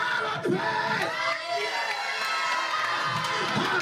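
A church congregation at New Shiloh cheers and shouts in praise during a service, a dense, continuous wash of many voices at steady loudness throughout.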